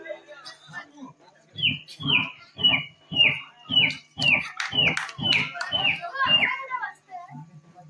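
A person imitates a baby chick, giving about a dozen rapid, high cheeps that slide downward in pitch, in a steady rhythm.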